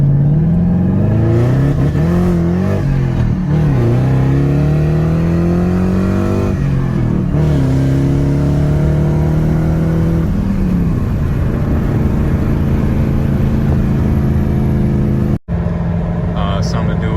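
A Mercedes SL500 drives along with a loud, steady engine note that rises and falls through gear changes, rumbling continuously near the listener, with a brief dropout near the end.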